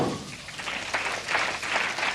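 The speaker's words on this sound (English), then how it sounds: "And muted applause from the big German following here inside the bowling centre" Muted applause from a large German crowd inside a bowling centre during a 1998 men's tour event, soft uneven clapping that swells in a couple of brief waves.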